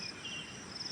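Crickets and other insects chirping outdoors in early-morning darkness on a farm, a steady high-pitched trilling that is faint and continuous for a brief moment with no voices.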